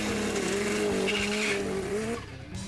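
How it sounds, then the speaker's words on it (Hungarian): A loud funny bike class drag racing motorcycle engine roars continuously with a wavering pitch, close by, then drops off slightly near the end. "Ez egy funny bike típusú motor, vagyis egy funny bike osztályú drag bike."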